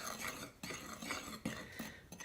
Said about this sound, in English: So then just stir all that up.